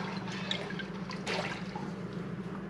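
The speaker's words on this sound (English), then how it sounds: "Stir that up." Pickling brine for cucumber pickles stirred in a pot: soft close sloshing and swirling liquid with small splashes, a steady low wash throughout.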